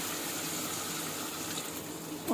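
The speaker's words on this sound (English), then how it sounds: "now we will add water" Water is poured into a pan of tteokbokki, a faint steady rushing and splashing pour that continues alone for a couple of seconds.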